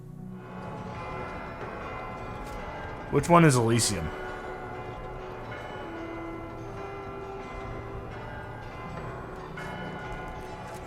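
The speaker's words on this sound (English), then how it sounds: "Service begins when all the bells ring out in perfect harmony." Bells ring together in harmony in The Outer Worlds 2 video game, a loud clanging burst of several bells that then fades into a sustained ringing hum while someone talks over it.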